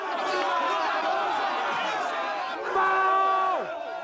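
Crowd noise at a Regency-era bare-knuckle boxing match, a dense, loud roar of cheering and shouting voices that swells steadily, with a brief louder surge near the end.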